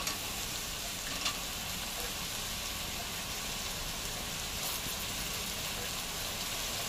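Green chili and tomato frying in a pan for Mumbai-style pav bhaji, a steady soft sizzle that runs continuously at low volume with a faint stir or two.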